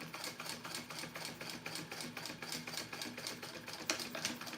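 An industrial sewing machine stitches fabric for a purse, running in a fast, even mechanical chatter with a rapid rhythmic clatter throughout, fairly quiet and close, with no talk.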